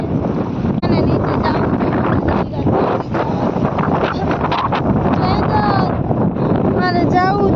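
Steady wind buffets the microphone at Rozi Bandar in Jamnagar, a loud continuous rumble by the coast, with people talking and a child calling out over it.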